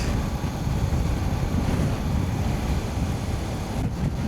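Strong wind gusting hard against the microphone, a steady loud roar and buffeting that fills the whole stretch with no voices.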